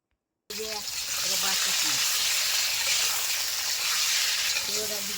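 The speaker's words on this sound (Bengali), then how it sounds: "আলু ভাজার সময় আমরা অল্প একটু লবণ আর অল্প একটু হলুদ দিয়ে দেব" Potatoes with a pinch of salt and turmeric fry in a pan, a loud, steady sizzle that starts abruptly after a brief silence and continues close up, with a faint voice murmuring underneath.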